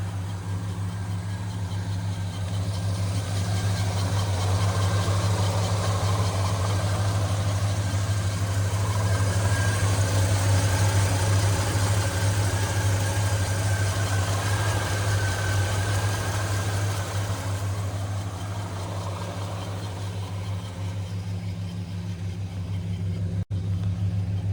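A 1969 Cadillac engine idles steadily with a deep, even rumble that holds for the whole stretch, close and continuous with no voices over it.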